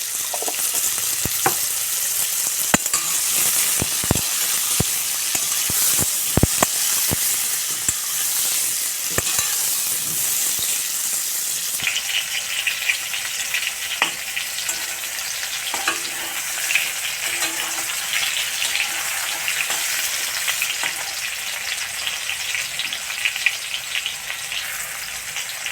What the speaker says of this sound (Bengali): লাউগুলো ভাজা হয়ে গেছে।